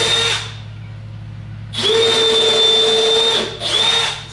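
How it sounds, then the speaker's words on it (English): A power drill bores holes through the drawer front of a workbench, with a brief high whine, a pause, then a longer sustained run and a final short burst, all close and loud. "I'm going to drill some screws through here, or drill some holes through here"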